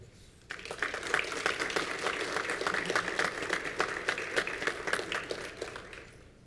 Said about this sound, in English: Friends, a round of applause for Ira R. Herr Athletic Hall of Fame inductee, Brian Hoy.